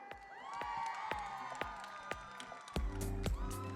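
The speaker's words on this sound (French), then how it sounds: "Applaudissez-le bien fort" Audience at a Chibi cosplay award ceremony at the Geekali 2023 convention cheers for the first-place winner, a lively mix of shouts, whoops and scattered claps that swells loudly near the end.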